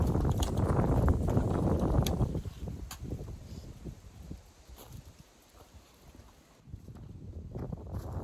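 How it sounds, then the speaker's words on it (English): Gusty wind buffets the microphone at an outdoor shooting range, a loud low rumble for the first two seconds that eases to a softer roar midway, then rises again near the end, with no speech. "I don't know if you can hear me over the wind."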